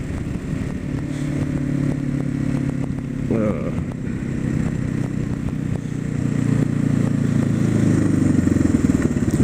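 A large dual sport motorcycle rides along with its engine thrumming steadily close by, rising gradually in pitch and loudness, with some clatter of gear along the way.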